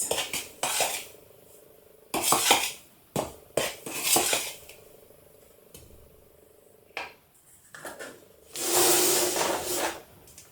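Cake batter with baking powder being mixed in a bowl, a utensil scraping and clinking against the bowl in repeated bursts separated by short pauses, close and fairly loud, with a longer rougher stretch near the end.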